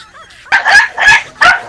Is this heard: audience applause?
no